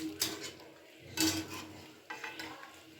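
Steamed cauliflower florets are lifted and drained with a slotted spoon in a pot, giving a few scattered clinks and scrapes of metal against cookware with soft watery rustling, quiet and close.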